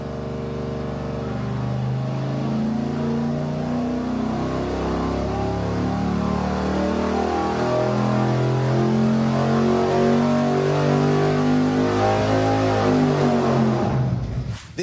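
Car engine running with the muffler removed, a loud, raw, close exhaust drone that holds a steady idle and rises slightly before cutting off at the end.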